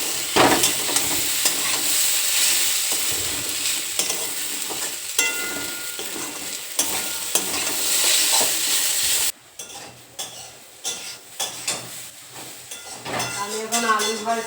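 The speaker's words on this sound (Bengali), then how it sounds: "আমি এখন আলু ভাজছি" Potatoes frying in a pan give a loud, continuous hissing sizzle with stirring scrapes, which drops abruptly partway through to quieter clatter and faint voices.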